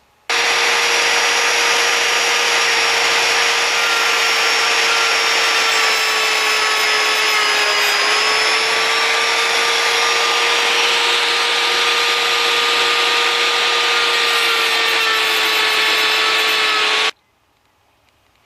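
A Drill Doctor 750X sharpener grinding a drill bit, a loud steady motorized whine with a grinding rasp that holds continuously for about seventeen seconds before cutting off abruptly into quiet.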